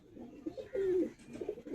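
A close pigeon gives soft, low coos and a rising, throaty call in the middle. The bird is one of the Madrasi breed birds from a breeder's loft, and there is faint background noise but no clear speech.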